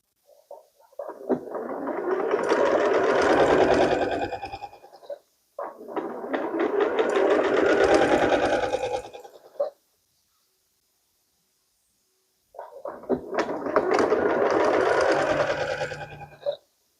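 A sewing machine stitching small quilt squares end to end for a pixel quilt, running in three steady whirring bursts of a few seconds each with quiet pauses, close and clear with no talk.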